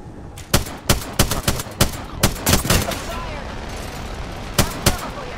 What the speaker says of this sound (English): I'm hopping on the turret.